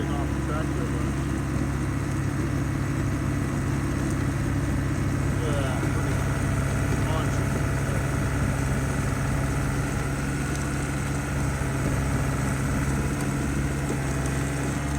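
A John Deere tractor fitted with a snowblower runs in a snowstorm, its engine giving a steady, unbroken low rumble and drone that stays at an even level throughout.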